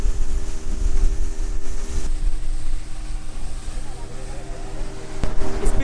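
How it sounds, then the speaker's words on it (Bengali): A speedboat crosses the Naf river, its engine droning under heavy wind noise as waves pound the hull in sharp, irregular jolts, with a few abrupt thumps near the end. "স্পিডবোট এখন প্রচণ্ড ঝাঁকি মারছে, কারণ প্রচণ্ড জোরে জোরে ঢেউ স্পিডবোটের নিচে এসে বাড়ি খাচ্ছে।"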